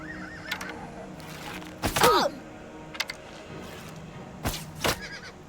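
Horse neighing and whinnying in Oblivion Remastered, a fantasy video game, with two loud whinnies and shorter snorts and hoofbeats scattered around them over faint background ambience.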